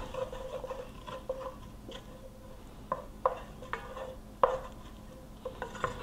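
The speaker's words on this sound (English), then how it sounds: "make myself a little roux with the flour and butter" A spoon stirring a flour and butter roux in a pot, soft scraping and light clicks against the metal in an irregular rhythm, close and fairly quiet with a faint background hum.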